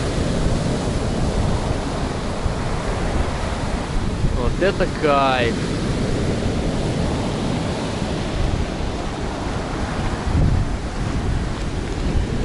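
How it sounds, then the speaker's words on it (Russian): Strong storm waves crash and roar along a beach at Tuapse under a red flag, a continuous loud wash of surf mixed with heavy wind buffeting the microphone, while someone speaks briefly in the middle. "вот эта волна идет"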